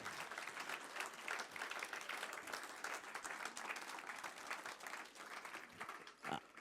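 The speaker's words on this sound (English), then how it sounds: "a nice big round of applause for Andy and all the guys that have put the" Crowd applause at a 2018 hall of fame awards night, a continuous patter of many hands clapping, fairly distant and moderate in level, with a brief louder burst near the end.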